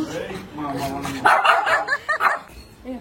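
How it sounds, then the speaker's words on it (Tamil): A dog barks a few times close by, short yips mixed in with people talking over it outdoors in front of a house. "முன்னாடி நாய் இருக்கு."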